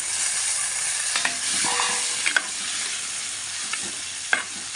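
Soaked chickpeas stirred and sautéed with onions in a pan for tamarind curry, a soft continuous sizzle broken by occasional spoon scrapes and clinks, close and fairly quiet.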